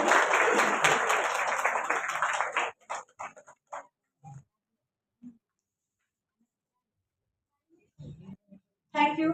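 Audience applause at a charity women's award ceremony, a dense burst of clapping for nearly three seconds that stops abruptly, followed by scattered faint knocks and a short renewed flurry of claps at the end.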